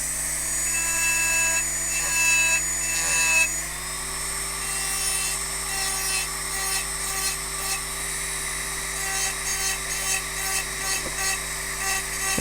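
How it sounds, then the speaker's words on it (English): A diamond burr engraving a glass vase gives off a continuous high-pitched, dentist-drill-like whine up close, with the pitch shifting slightly partway through as pressure on the glass changes. "working wet gives the diamonds more lubrication so that they cut sharper"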